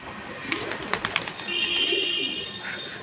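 Pigeons coo softly amid flapping and a few sharp taps, with a steady background hiss and a thin high whine partway through.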